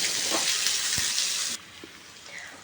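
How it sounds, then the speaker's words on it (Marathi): Chopped onion sautéing in a pan over medium heat, a bright steady sizzle with a stirring knock, dropping to a quieter sizzle after a sudden cut. "हा कांदासुद्धा आपल्याला व्यवस्थित असा गुलाबी रंगावरती परतून घ्यायचा आहे"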